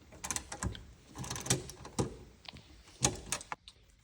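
Metal bolts on a Dodge Charger door mirror being loosened with a wrench, producing a string of sharp, close clicks and ratcheting knocks at irregular intervals, with no talking.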